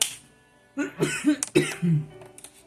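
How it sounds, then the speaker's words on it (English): A person coughs several times in quick, harsh bursts, close and fairly loud, with short gasps between. "I have not been coughing this entire time. Well, a little bit here and there, but not like that"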